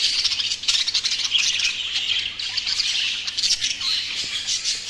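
Several birds squawk loudly and continuously in an aviary with mixed males and females, harsh overlapping calls filling the space up close with no talking.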